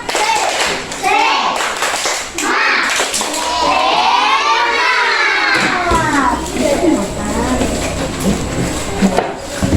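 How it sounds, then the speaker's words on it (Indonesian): Schoolchildren in a class chanting loudly together with rhythmic hand claps, lively and close, voices dominating over the clapping. "tepuk semangat"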